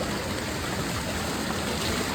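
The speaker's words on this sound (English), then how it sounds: "because there's an infinity edge hot tub above us, when you sit on the bench here" Water pours continuously off an infinity edge hot tub onto a bench below like a waterfall at a resort, a close, dense, steady rushing wash with no breaks.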